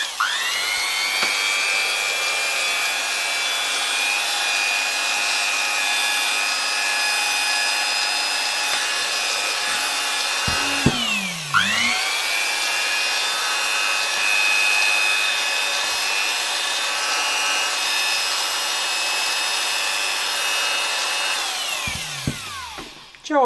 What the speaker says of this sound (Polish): No i sprawdźmy, wiertarka jest teraz podłączona do zasilania.